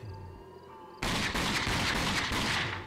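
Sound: pistol shots in the video game Rage

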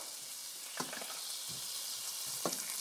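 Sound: sweet peppers sizzling in olive oil

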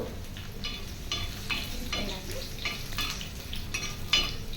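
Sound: garlic and dried red chillies frying in an iron pan

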